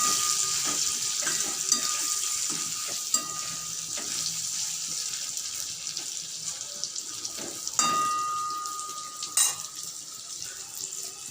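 Cubed potatoes fry in hot oil seasoned with salt and a little turmeric for a shrimp curry, giving a steady bright sizzle with occasional stirring scrapes and clinks.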